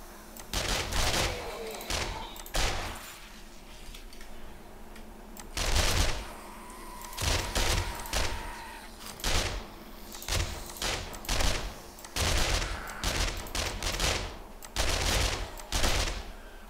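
Bursts of gunfire in the video game MEGAcity come as loud, close volleys of rapid shots, clustered and repeating with short pauses between them, and a voice speaks briefly in the gaps.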